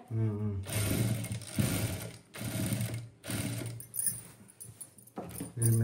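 A sewing machine stitches a churidar in several close whirring runs of about a second each, separated by short pauses, with a person talking softly in between.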